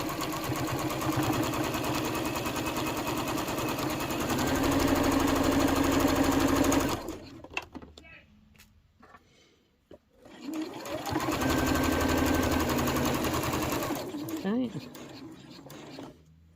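A sewing machine stitching the outer fabric of a book sleeve runs in two long, steady bursts of rapid mechanical whirring, close and loud, separated by a pause filled with quiet handling.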